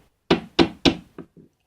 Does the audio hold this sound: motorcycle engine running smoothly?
no